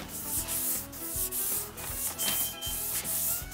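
Steady back-and-forth strokes of block sanding on high-build primer over a car body panel, rasping rhythmically about twice per second, close and loud with no talking.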